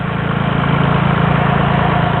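A tractor engine runs on a dairy farm, a loud steady low-pitched rumble with a rapid even pulse throughout, close by and with no voices.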